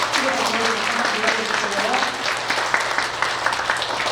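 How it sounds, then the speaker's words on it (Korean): A congregation at a Korean Sunday church service applauds its children, graduates of the church's Joyland program. Moderate, lively clapping runs throughout, with people talking over it. "우리 자녀들 위해서 크게 다시 한번 박수 하고요."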